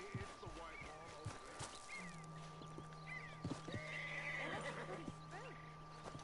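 A horse whinnies and snorts several times amid soft hoof clops in the video game Red Dead Redemption 2, with a voice talking over it and a steady electronic tone in the background.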